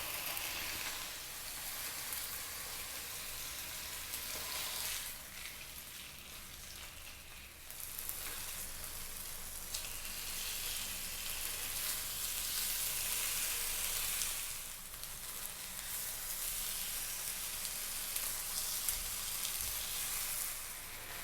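Thick food, likely chicken, fries in a pan over medium heat with a steady, dense sizzle that surges and dips slightly throughout, close and continuous with no talking.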